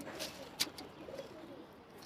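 Pet pigeons coo softly in the early morning before being let out, a faint low murmur with a brief sharper sound partway through, quiet and close with no talk.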